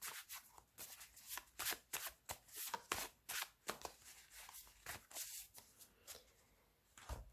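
Oracle cards from a Modern Mary deck are shuffled by hand in quick, crisp bursts of riffling and sliding, close and fairly quiet, with short pauses between flurries and no talking.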